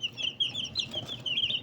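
Young local chicks and chickens peep and cluck nearby in a continuous, high, chirping chatter that overlaps with softer low clucks.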